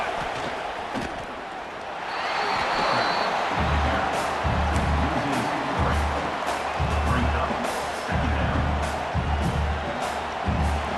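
Stadium crowd noise in a college football video game, a loud sustained roar that swells after a couple of seconds and holds, with a rhythmic low thumping chant-like pulse beneath it.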